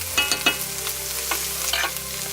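Ground turkey sizzles steadily in a cast iron pan, close and loud, with a few scraping stirs of a utensil across the meat.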